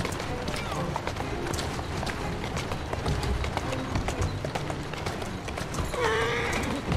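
Horse galloping in Assassin's Creed Syndicate, rapid rhythmic hoof clatter on a street with rolling background noise, steady and fairly close, and a brief neigh-like cry near the end.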